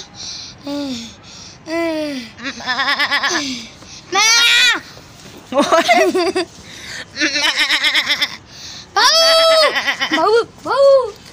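A person's voice repeatedly imitates a goat, producing a series of wavering, quavering bleats in short bursts separated by brief pauses.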